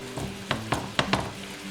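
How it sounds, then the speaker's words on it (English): Extra lean ground beef frying in a pan over medium heat, a steady low sizzle with a few short scraping stir strokes spaced through it, close and fairly quiet, no talking. "I'm just frying it up on medium heat"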